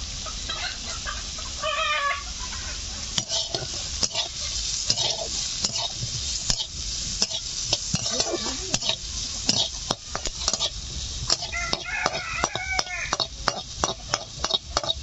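Bamboo shoot pickle with salt, turmeric and five-spice frying in oil, stirred with a utensil in steady scraping strokes over a continuous sizzle, while chickens cluck intermittently in the background.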